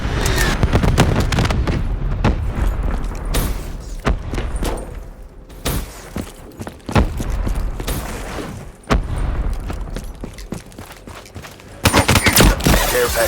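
A Hellstorm missile strike in Black Ops 3 Demolition, with loud repeated booming impacts and bursts of gunfire crowding the scene, then a brief lull before a final heavy barrage.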